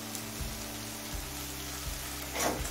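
Spices fry on a high flame in a pan as ginger-garlic paste goes in, a steady sizzle with a few soft stirring knocks, close and alone.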